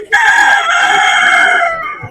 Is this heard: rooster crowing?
yes